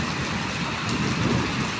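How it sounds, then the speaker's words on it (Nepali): A night downpour in Saudi Arabia roars steadily, heavy rain hammering surfaces nearby, with a low rumble of thunder blending into the constant wash of water. "एकदम पानी परिरहेको अवस्था छ।"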